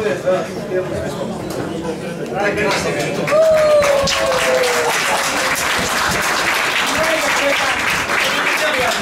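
Audience applause breaks out after a poetry reading at an outdoor country music evening, a sustained wash of clapping with chatter and a voice speaking over it.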